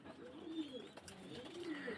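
Pigeons of the KTM, Oman and 128 Teddy breeds coo steadily at close range, low rolling calls repeating in a soft rhythm with no talk over them.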